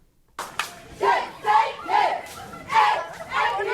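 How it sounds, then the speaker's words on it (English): A tunnel of cheerleaders lets out loud rhythmic bursts of group cheering and shouting, about five swelling waves in quick succession with scattered clapping, heard from a played-back recording. "you have to walk through a tunnel of cheerleaders who are cheering"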